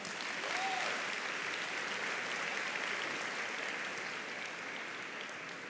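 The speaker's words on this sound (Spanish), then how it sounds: "Recibamos con fuertes palmas a Marco." A university audience applauds steadily throughout as a cultural center director is introduced at a talk in Lima, the dense clapping holding an even, moderately loud level from start to finish.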